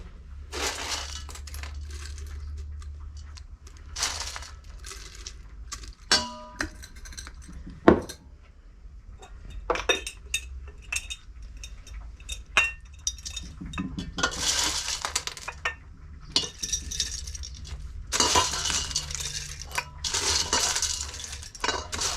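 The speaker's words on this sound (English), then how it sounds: "we're gonna go ahead and fill our jars up" Dehydrated cherry tomatoes poured and dropped into glass jars, giving a string of irregular clinks, taps and rattles of varying loudness, close by and with no talking.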